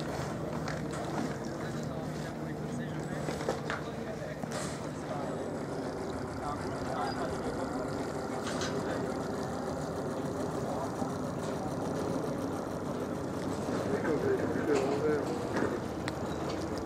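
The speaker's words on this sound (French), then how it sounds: "éteins ton moteur, on respire de la fumée à max" A motorboat engine idles steadily in the background at a sailing regatta while people talk nearby, a low continuous rumble throughout.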